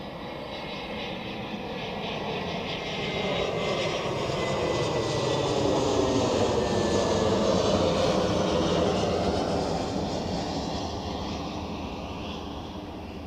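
A Chair Airlines airliner at Zurich Airport: loud, steady jet engine roar that swells and holds as the aircraft passes nearby, broad and continuous with no talking.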